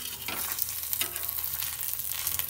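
Cabbage paratha frying in oil on a hot pan, giving a steady close sizzle with small crackles throughout and no voices.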